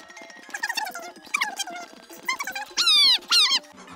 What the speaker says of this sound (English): classic Jeff will be coming back with a jump scare sound like this